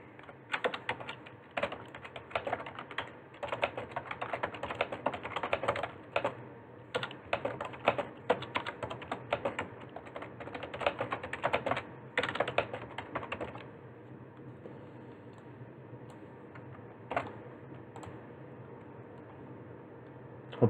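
Quick, uneven bursts of computer keyboard typing clatter nearby for about thirteen seconds as a short note is written, then thin out to a few isolated key taps.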